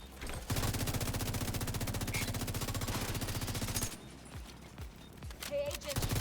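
A deployed turret in The Division 2 fires a long, rapid automatic burst of rattling shots that runs steadily for several seconds, then stops abruptly, leaving quieter scattered game sounds and a few distant shots.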